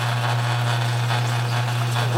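A 1950 Harley-Davidson panhead engine runs at a steady, close idle with a strong low hum, and its pitch lifts briefly near the end as the throttle is opened.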